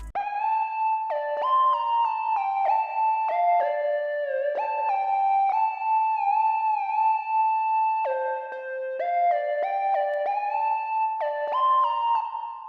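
Synth lead played in Logic through Space Designer reverb: a bright, whistle-like melody of stepped sustained notes with a wide reverberant wash, continuous and prominent with no voices.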